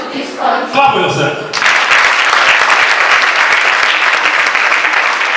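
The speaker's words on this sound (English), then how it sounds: "Clap for yourself." A voice speaks briefly, then loud, dense applause breaks out from the audience at an International Day of the Girl Child event in Nigeria. The clapping holds steady and strong to the end.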